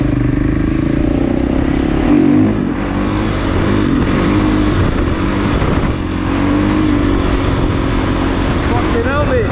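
A Kawasaki KX450 dirt bike engine roars loud and close during a wheelie, holding a steady high drone with small shifts in revs and faint talk underneath.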